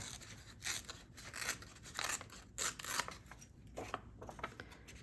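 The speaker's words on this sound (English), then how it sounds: "I'm going to tear along the edge there, and then on this side I'm going to tear also" Paper being torn by hand along its edges for a craft gnome, a series of short rasping rips coming in bursts close by, with no talking.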